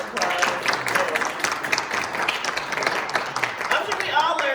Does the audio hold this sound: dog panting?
no